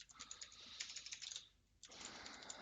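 Computer keyboard typing, a quick run of light plastic key clicks, close and clear, pausing briefly near the middle before resuming.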